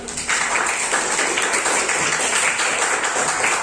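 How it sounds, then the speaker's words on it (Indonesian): A classroom of students applauds a classmate called to the front, giving a steady, dense wash of clapping that holds at an even level for several seconds with no speech over it. "Tepuk tangan buat kali."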